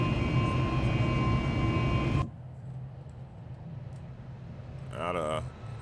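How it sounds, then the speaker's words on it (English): Boeing 737 MAX 8 jet climbing out after takeoff from Havana, a loud steady engine roar inside the cockpit that drops suddenly to a quieter hum, with a brief voice near the end. "Out of Havana, the American MAX-8 flight, breaking over the clouds there."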